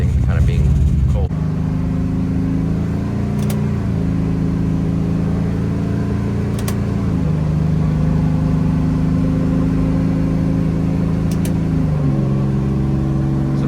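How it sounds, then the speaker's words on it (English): An Aston Martin GT4 race car engine holds steady drones that step up and down in pitch as it runs through the gears, loud and close, with a little talk over it. "so what I'll do now is kind of go through and run it through the gears"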